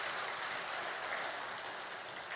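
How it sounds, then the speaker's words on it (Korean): A congregation applauds during a Sunday church service, a dense, even wash of clapping held at a steady level for a couple of seconds. "우리 박수로 하나님께 영광 돌립니다"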